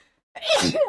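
A single sharp, close sneeze bursts out suddenly after a moment of near silence and is over within half a second.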